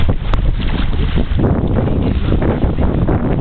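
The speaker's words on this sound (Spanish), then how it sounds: "hoy estamos navegando" Sailboat under way in wind off Zanzibar, with loud steady rushing wind buffeting the microphone over churning water, continuous and close, no talk.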